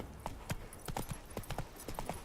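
Roach, the horse in The Witcher 3, gallops with steady rhythmic hoofbeats, several quick clip-clops each second, moderately close and alone.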